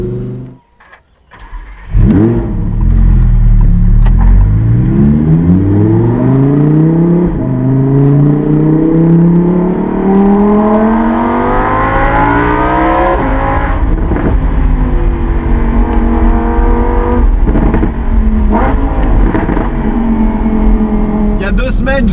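A Lamborghini Huracan Performante S with its naturally aspirated V10 revs hard on the move, loud and close, its pitch climbing through the gears in long sweeping pulls with brief dips at each shift, alone with no talking.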